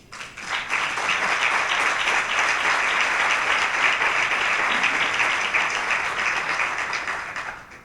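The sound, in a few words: audience applause for Eva Vaz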